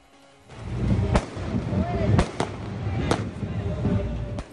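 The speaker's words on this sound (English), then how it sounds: "Fireworks. They mark the beginning of the electoral day." Fireworks set off at dawn to mark the start of election day in Venezuela, the Toque de Diana: four sharp, loud bangs spaced about a second apart over a continuous murmur of outdoor background noise.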